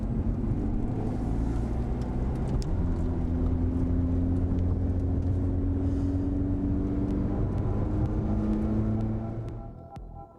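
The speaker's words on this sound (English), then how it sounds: "The Ferrari 430 Scuderia is really a gorgeous Ferrari in stock form." Ferrari 430 Scuderia race car driving at speed, a loud steady engine drone with shifting tones held throughout, fading near the end.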